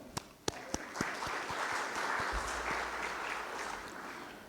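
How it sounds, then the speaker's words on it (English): A few sharp claps start things off, then swell into continuous applause from an audience at an event, moderately distant and even. "would request an applause for them"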